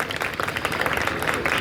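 An audience claps together at an outdoor government senior secondary school Republic Day celebration in Dantour, producing a dense, even patter of many hands. The applause is loud and sustained through the whole moment, with a faint voice underneath.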